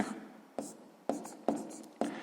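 A pen writes numbers on paper in five quick, distinct scratching strokes spaced evenly apart, close and clear, with no voice heard.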